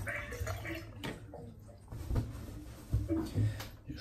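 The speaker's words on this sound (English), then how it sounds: "Just rinse the brush out now." A shaving brush being rinsed under running water in a bathroom after a head shave, a soft splashing wash broken by a few close knocks and clatters.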